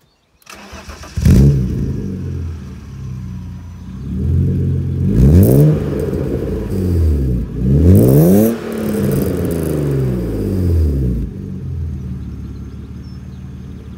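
A six-cylinder car engine cranks to life, then revs hard several times, each surge rising and falling before settling into a deep, steady idle.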